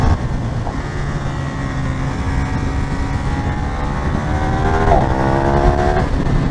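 KTM 1390 Super Duke R EVO with its nearly 1400cc engine drones steadily while riding under thick wind rumble, its pitch climbing and then shifting near the end, loud and close.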